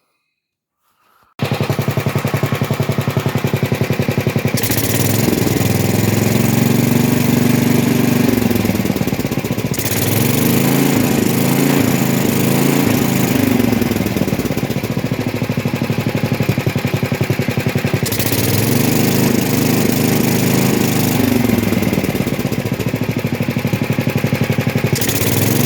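A 1970 Sears SS12 lawn tractor, repowered with a new engine, runs steadily after a sudden start, a loud, close, rapid chattering exhaust drone with slight swells in pitch as the throttle shifts, with no talking.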